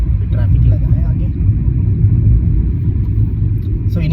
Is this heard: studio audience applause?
no